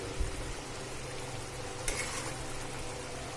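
A spoon stirs an okra and yogurt curry with potatoes in a pan over a low, steady sizzle, with a soft scrape near the start and a brief clink about midway.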